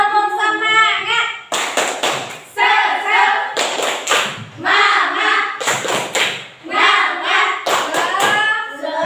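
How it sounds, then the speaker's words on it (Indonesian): Schoolchildren in a classroom doing a rhythmic spirit clap, sharp bursts of group clapping and thumps in a repeating pattern, alternating with the children chanting in unison, loud and close. "Ayo, tepuk semangat."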